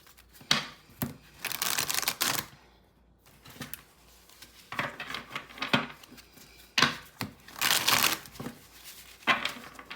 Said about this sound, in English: All right, let's shuffle that deck here.